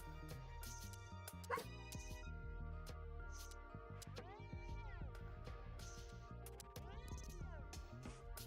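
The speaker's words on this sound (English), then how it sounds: "this dog. He's yelling at Price to take TP." A dog barks and yelps in a loud, continuous stretch of repeated calls, some drawn-out and whining, close by with a busy, layered background throughout.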